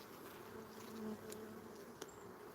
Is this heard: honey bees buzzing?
yes